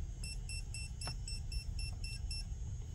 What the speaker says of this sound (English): it beepity beeps to let me know, hey, there's some voltage on here